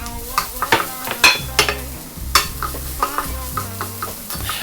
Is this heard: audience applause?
no